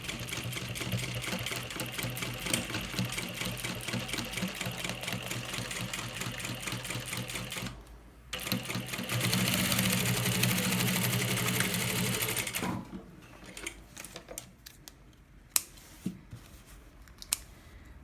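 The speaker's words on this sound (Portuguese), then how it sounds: "você costura devagar, tá? Pra não forçar muito sua máquina e não quebrar a agulha" A sewing machine runs slowly through a thick fabric layer on a baby's carry bag, a steady rapid needle chatter that pauses briefly, surges again, then stops, leaving scattered clicks and handling sounds.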